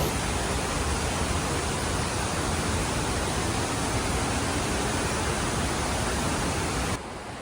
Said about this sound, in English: What a powerful waterfall.